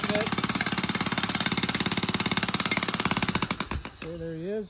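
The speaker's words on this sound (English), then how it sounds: "the jackhammer to do the work" A 60 lb jackhammer breaks ground in a rapid, steady hammering rattle, loud and close, that slows and stops near the end as a voice speaks over it.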